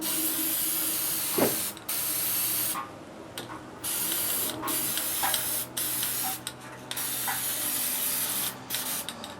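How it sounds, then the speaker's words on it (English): Repeated hissing bursts of a spray paint can, each lasting about a second, separated by short pauses, close to the microphone. "We take our spray paint."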